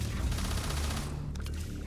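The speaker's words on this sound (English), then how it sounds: "Bullets! Ah, bullets!" Gunfire in Starfield comes as a dense, loud burst of rapid shots that stops abruptly, leaving a few lighter clicks and rattles.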